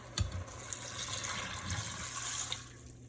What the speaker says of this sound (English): I'm gonna put a little water. This is 4 cups.